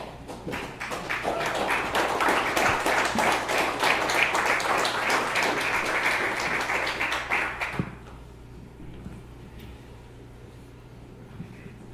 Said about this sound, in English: just give Patrick a warm round of applause